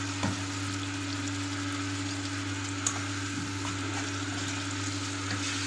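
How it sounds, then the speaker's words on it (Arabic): Grated tomatoes frying in a pan, a steady, close sizzle and crackle running throughout under a low constant hum, with a faint tick or two and no talking. "وهننزل بقى بالطماطم تكون مبشوره بتبقى طعمها جميل جدا."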